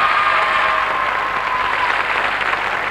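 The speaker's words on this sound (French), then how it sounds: "Applaudissements pour eux, s'il vous plaît, encouragement." A TV quiz show studio audience applauds the two final candidates with steady, dense clapping that holds for about three seconds, with no voices heard.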